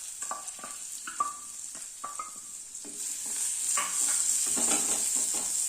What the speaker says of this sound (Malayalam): അതിലേക്ക് നമുക്ക് ഈ സവാള ഇട്ട് കൊടുക്കാം